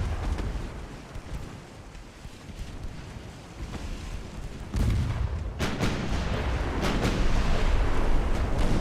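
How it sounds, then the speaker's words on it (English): A torpedo explodes in the naval warfare game Ultimate Admiral: Dreadnoughts, heard as a sudden heavy blast midway over a rumbling wind-and-sea background that stays louder afterward. "that torpedo blew right before it hit us"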